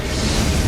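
A boss's explosive attack in Elden Ring Shadow of the Erdtree lands as a loud, dense, sustained rumbling burst that fills the whole moment without a break.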